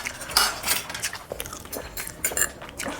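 Maggi noodles eaten with a spoon in a Bengali mukbang: a close, steady run of wet chewing and biting with small spoon clinks against a dish, several brief louder bites spread across the stretch, no talking.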